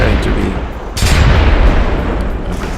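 Ship bombardment in the video game Civilization III, heavy booming cannon-like blasts rumbling continuously with a louder burst near one second, loud and close, with a voice speaking over part of it.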